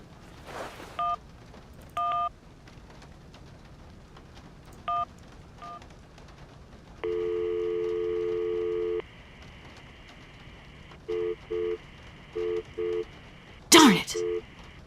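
Telephone keypad dialing in the video game Syberia: several short paired DTMF beeps in separate bursts, a steady two-second tone, then more quick beeps, with a brief noisy burst near the end.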